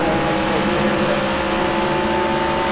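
Onboard engine note of a race car in a street-circuit New York round, a loud, steady, droning roar held through a corner with no pauses.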